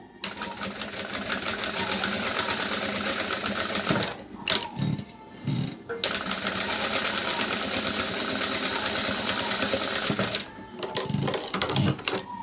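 A sewing machine stitches a bandana piece in a home atelier, running loud and steady in two long bursts with brief pauses and a few soft handling clicks between them.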